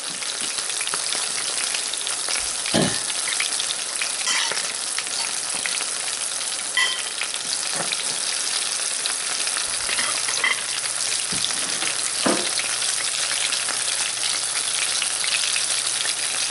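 Broccoli fries in a partly covered pan with a dense, steady sizzle, scattered spatter pops and a few soft knocks, close and unbroken throughout with no voices.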